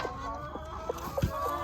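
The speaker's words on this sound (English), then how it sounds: "And this is Little Miss Broody Britches over here" A broody hen gives a few soft, low clucks and grumbles close by, short and scattered, over a steady background hum.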